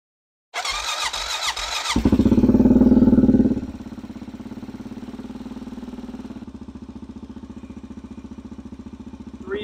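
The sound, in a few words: Honda Rincon 650 ATV engine starting and running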